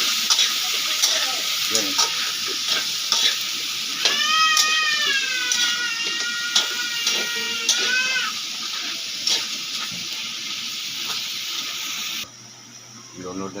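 Sitaw and other vegetables being sautéed in a pan give a continuous close sizzle with scraping stirs, while a cat meows several times and a voice speaks briefly.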